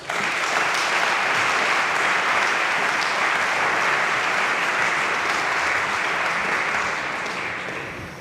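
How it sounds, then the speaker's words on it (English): Sustained applause from an audience at a medal ceremony fills the hall, a thick, even roar of many hands clapping that holds steady before gradually tapering near the end. "Please, can we have a round of applause for Dennis Reyes."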